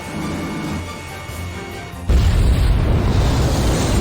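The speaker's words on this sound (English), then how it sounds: "Mass driver hit by cruise missile." A cruise missile strikes the mass driver in the video game Ace Combat 5, a sudden loud crashing boom at the midpoint that gives way to a sustained heavy rumble after a quieter stretch of game background.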